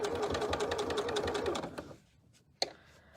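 A sewing machine stitches through a book cover with elastic sewn in, a fast steady mechanical whir for about a second and a half, then it stops, followed by quiet and one sharp click.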